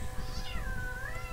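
A house cat lets out a drawn-out, wavering meow lasting about a second, close and fairly loud in a quiet indoor room, with no talking.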